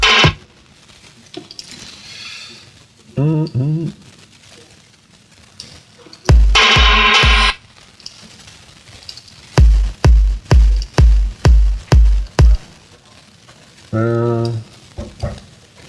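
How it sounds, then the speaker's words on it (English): Short, punchy kick drum samples auditioned during a studio production session: a few sustained electronic bursts, then a quick run of seven tight, evenly spaced kicks, loud and close with no talking. "So you guys should hear the kick drum now."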